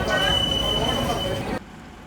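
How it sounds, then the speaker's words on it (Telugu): Train pulling into a railway station, rumbling wheels and a thin sustained metallic squeal over station ambience, loud and close, then cutting off abruptly near the end. "ట్రైన్ అయితే ఇప్పుడే వస్తుంది."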